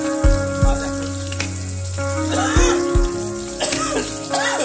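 Small river fish fry in a pan with a crackling sizzle, under music and occasional background sounds.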